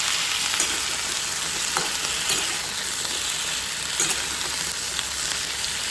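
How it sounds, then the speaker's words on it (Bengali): Mango fries in a pan while a spatula stirs it, producing a continuous close sizzle broken by occasional scraping taps of the utensil, with no voices. "আমটাকে এবার হালকা করে ভেজে নেব নিয়ে অল্প নুন দিয়ে দেবো"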